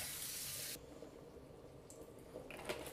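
Water runs from a kitchen tap to rinse a pan, a hissing rush for a moment before cutting off, leaving faint quiet splashes and handling sounds close by.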